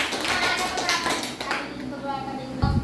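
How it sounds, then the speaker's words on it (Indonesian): Children clap together in a classroom as a round of quick, uneven claps that sounds close by. A teacher's voice and children's voices overlap the clapping, and it tails off near the end. "Tepuk tangan buat Andika"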